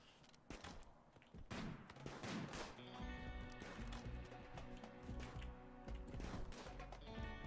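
Sniper rifle gunfire in the video game Rimworld, several sharp shots and bursts of gunfire, faint and distant, over game music.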